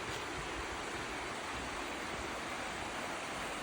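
A river at a riverside campsite rushes with a steady broadband wash of flowing water, constant and fairly loud, with no voices.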